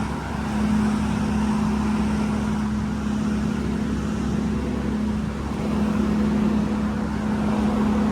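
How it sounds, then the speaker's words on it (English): A truck hums loudly and steadily on a suburban road, a constant low drone close by with traffic noise around it and no talk. "this truck is making such a loud humming sound"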